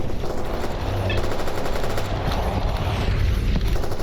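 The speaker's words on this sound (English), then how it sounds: "Why is there so much gunfire?" Dense, continuous gunfire from S.T.A.L.K.E.R. Anomaly, rapid automatic bursts and shots rattling loudly and steadily throughout, with no pauses and a low rumbling backdrop.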